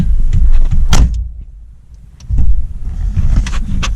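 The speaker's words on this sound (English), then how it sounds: "Close this door here so you can see that." A Volkswagen Rabbit's door thumps shut near the start, followed by a brief muffled hush, then low engine or road rumble returns.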